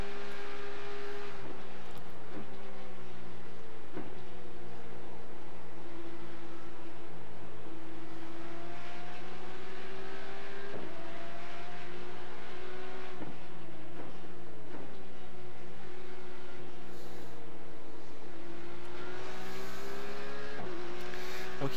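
A Porsche GT3 race car in the iRacing simulator screams at high speed at Watkins Glen. The steady, loud engine note rises and falls with gear shifts and small lifts throughout.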